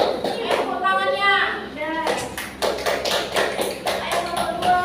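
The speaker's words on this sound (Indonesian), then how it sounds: "Nomor 2, tepuk tangannya." Children clap their hands in a classroom, a burst of sharp, scattered claps that follows a voice and continues under talk and classroom chatter.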